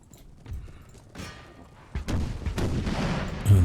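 Artillery guns firing in the Empire: Total War video game, a series of dull booms and thuds that build from sparse distant shots into a denser rolling barrage, with a louder thump near the end.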